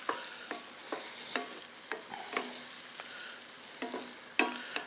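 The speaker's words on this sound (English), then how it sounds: "Okay, so we want to stir this around." Onion being stirred and sautéed in a pan gives a soft steady sizzle, broken by about a dozen sharp scraping strokes from a spoon. The strokes come at an irregular rhythm, close by, with no talk.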